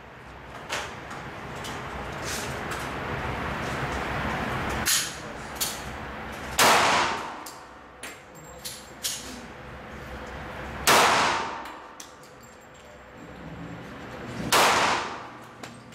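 Kahr PM40 .40 caliber pistol fired at a range: a few loud, sharp shots with ringing decay, spaced several seconds apart, alongside smaller clanks and clatter.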